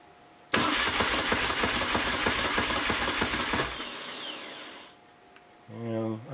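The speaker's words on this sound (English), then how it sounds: "nothing will happen other than the motorcycle will crank" A new 2012 Moto Guzzi Norge motorcycle engine cranks over loudly and steadily for about three seconds without catching, then the whirring fades and a brief electronic beeping follows.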